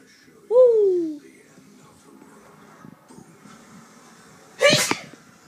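A single loud, sharp sneeze near the end, preceded by a brief whooping voice and quiet background noise.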